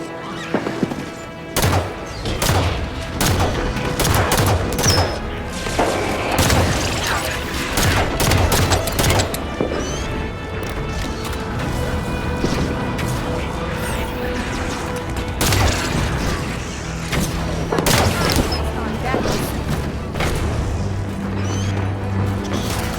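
Dense gunfire and explosions in the Halo video game, rapid bursts of automatic fire and impacts layered continuously over a busy mix, with faint voices in the background.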